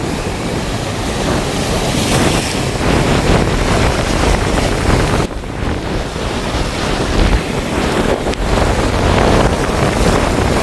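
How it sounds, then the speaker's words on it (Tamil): Strong storm wind roars steadily across the microphone in Jaffna, mixed with rushing surf or water noise, loud and continuous without a break. "ஒரு அளவு வந்து தள்ளுற அளவுக்கு வந்து காத்தடிச்சு கொண்டிக்குது."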